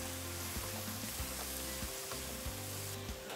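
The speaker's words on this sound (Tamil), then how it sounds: "நல்லா ஃப்ரை பண்ணிடணும், ரொம்ப முக்கியம் அந்த ஆனியனு." Chopped onions sizzling and frying in a pan for a cauliflower pepper fry, a steady crackling hiss with occasional soft stirring scrapes, fairly faint and with no talking.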